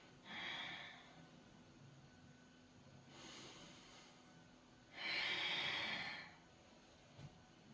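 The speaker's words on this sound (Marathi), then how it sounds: "परत श्वास घ्यायचा" Slow, deliberate breaths, drawn in and pushed out during a pelvic floor exercise, come as three soft airy bursts close to the mic with quiet pauses between them.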